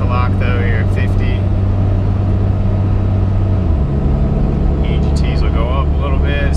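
Compound-turbo Cummins diesel engine running under light acceleration with the torque converter unlocked, a loud, steady low drone and turbo whine that drops in pitch midway as it shifts, with speech heard over it.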